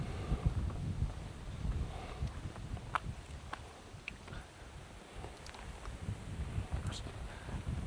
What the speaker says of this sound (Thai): บรรยากาศดีลมเย็นนะครับ